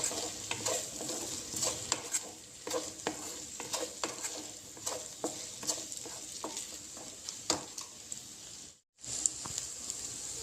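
Okra frying with turmeric in a pan for tomato okra curry: continuous sizzle punctuated by frequent spatula stirs and scrapes, close and moderately loud, with a brief dropout near the end.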